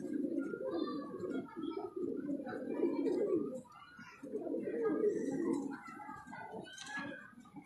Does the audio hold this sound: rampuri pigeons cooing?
yes